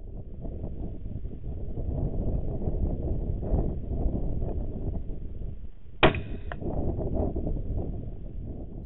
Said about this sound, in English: the wind picks up to almost 30 mile an hour here